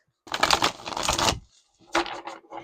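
Tarot cards being shuffled close up, a dense papery riffle lasting about a second, then a short pause and a couple of softer shuffling bursts.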